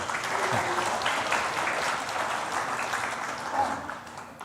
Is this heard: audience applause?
yes